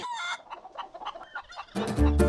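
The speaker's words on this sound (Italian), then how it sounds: "Dai Patrizio, prendine un po' che andiamo dalle galline." Farm hens clucking in a short burst, with scattered bird calls giving way to a louder, closer flurry of clucking and squawking near the end.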